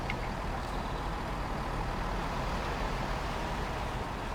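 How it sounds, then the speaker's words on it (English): Continuous low road noise from video game Train Sim World 6 rumbles steadily, like heavy vehicles and cars passing nearby, with no clear breaks or voices. "I like the ambient noises of the cars and that."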